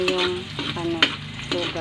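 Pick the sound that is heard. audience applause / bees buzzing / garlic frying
garlic frying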